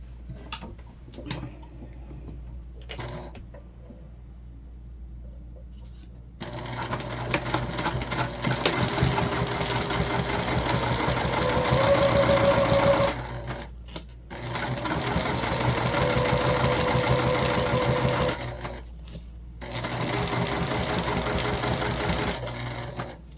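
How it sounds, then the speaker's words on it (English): A sewing machine stitches the pieces of a waist pack together in fast, steady mechanical runs, loud and close, with short pauses between bursts and a quieter stretch before the sewing starts. "Add it into our clips and sew together."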